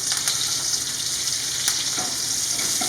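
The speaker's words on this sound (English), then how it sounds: "You just want to make sure you can hear a nice sizzling noise." Bacon sizzles and crackles steadily in a hot pan, a dense continuous hiss with occasional louder pops, close up.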